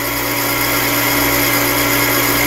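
A Frankford Arsenal case trim and prep center trims a cartridge case, producing a loud continuous motor whine with a steady scraping hum close up, unbroken throughout.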